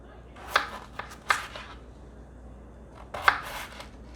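A knife slices through peeled russet potatoes on a cutting board, giving a few separate crisp cuts close up, spaced apart, with no talking.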